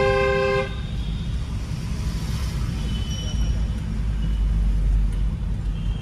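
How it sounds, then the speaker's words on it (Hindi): A car horn gives a short, loud honk at the start during a driving lesson at an intersection, followed by steady engine and road rumble. "हॉर्न दो"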